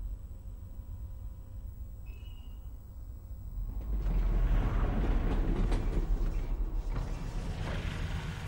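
Train rolling in the video game Half-Life: a steady mechanical rumble and rattle that swells louder midway, with a faint high squeal earlier on, no voices.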